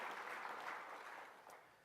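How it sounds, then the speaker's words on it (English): Keynote audience at a marketing conference applauding a top chief marketing officer, a steady, fairly soft and distant wash of clapping that thins slightly toward the end. "round of applause for a tremendous job of very hard work"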